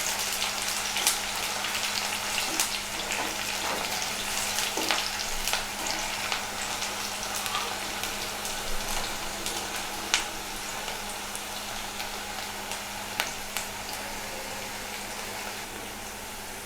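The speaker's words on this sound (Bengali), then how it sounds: "এই পেঁয়াজটা কিন্তু আমরা বেরেস্তার মতো করে ভাজবো না, হালকা ব্রাউন কালার হয়ে আসলেই আমাদের হয়ে যাবে।" Sliced onion frying lightly in a pan for a Bengali chola bhuna, a steady soft sizzle with scattered crackles and pops throughout, fairly quiet and continuous with no talking.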